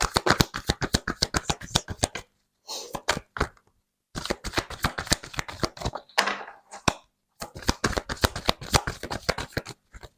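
A deck of tarot cards being shuffled by hand, with loud, rapid riffling bursts broken by short pauses, close up and with no talking.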